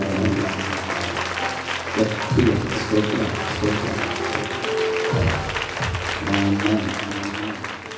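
A church congregation at a Sunday worship service claps in a continuous, even patter while a voice speaks or sings over it, the clapping briefly surging a few times.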